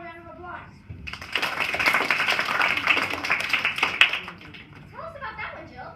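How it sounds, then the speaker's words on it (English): A short round of applause from an audience breaks out after a moment of speech, a burst of clapping lasting about three seconds before talking resumes. "How about a round of applause?"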